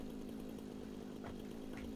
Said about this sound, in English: I can just whip out my chainsaw and get rid of these trees